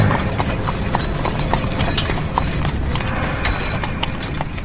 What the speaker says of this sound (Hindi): घोड़े आराम से चल रहे थे।